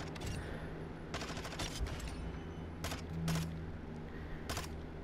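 Bursts of submachine gun fire from a Vaznev-9K in Call of Duty MW2 on a firing range, several short rapid volleys separated by pauses, fairly close and sharp.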